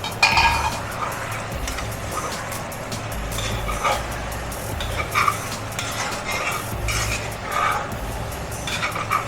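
Chicken stirred in a metal cooking pot, a spoon scraping and clinking against the sides in uneven strokes over a low hum of cooking.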